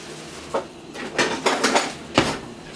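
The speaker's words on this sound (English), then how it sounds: "Let me get my wooden spoon." A wooden spoon is picked up and knocked against a pan while cooking plant-based spaghetti sauce, producing a few close, dull clatters and taps in an uneven sequence.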